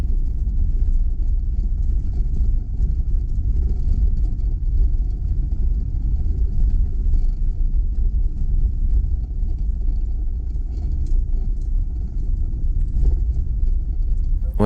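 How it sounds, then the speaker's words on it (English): A car drives along a dirt road into low sun, its steady low engine and tyre rumble filling the cabin continuously with faint rattles and no speech. "Okay, so now I'm driving into sun and on the dirt road."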